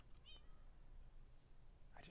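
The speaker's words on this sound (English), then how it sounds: "I hear a cat." A cat meows faintly in the Minecraft GTNH modpack, one brief mew near the start and another toward the end over a low background hum.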